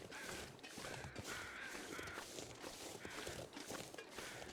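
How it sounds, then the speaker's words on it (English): Crows caw repeatedly in the survival game The Long Dark, harsh calls recurring over a loud, rough outdoor wind-like background, with footstep-like crunches mixed in. "I hear crows over here."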